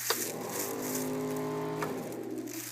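A 1.5 horsepower air compressor with a 30-gallon tank, down in a basement, kicks on with a click and settles into a steady, droning motor hum that holds through to the end.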